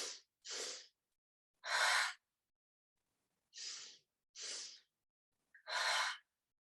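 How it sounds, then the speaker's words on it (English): A mindful breathing exercise comes through as a repeated pattern: two short interrupted inhales followed by one longer, airy sighing exhale. The sounds are soft, close and breathy, with silence between each breath. "we're going to go inhale, interrupt, there's a whole little hold, and then finish the inhale and then sigh out"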